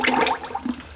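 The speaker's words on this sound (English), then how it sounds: "I'm going to go ahead and pour my lye solution." A freshly mixed apple cider vinegar lye solution is poured for making turmeric shampoo bars, a brief close, gurgling liquid splash that fades quickly.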